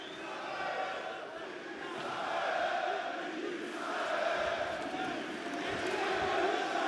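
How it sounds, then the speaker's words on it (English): A French crowd at a PFL Paris MMA fight roars behind its local fighter, a broad, continuous swell of cheering that rises and falls and runs under a commentator's voice. "You can hear the French crowd getting behind their local fighter here."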